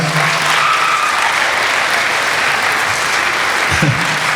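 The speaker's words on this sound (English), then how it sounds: "Let's give them a round of applause." Applause from a school choral concert audience, a dense steady clapping held loud and close from start to finish.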